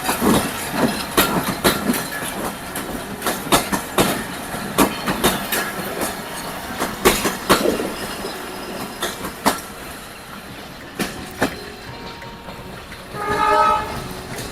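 A train crosses the Hardinge Bridge in Pabna, its wheels beating out a loud, rhythmic clatter of sharp repeated clacks over the rails, with a short horn-like tone near the end.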